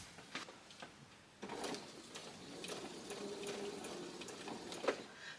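A home sewing machine stitches quilt panels at a steady, continuous hum, with small clicks and fabric handling at the start and a louder tap near the end; no one speaks.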